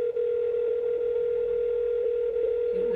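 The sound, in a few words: phone ringing tone during a call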